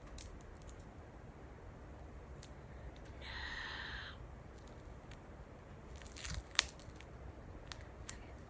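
Duct tape is cut up close for a handmade wallet: a short rasping tear near the middle, then quiet snips and clicks, all soft and isolated over a faint background hiss.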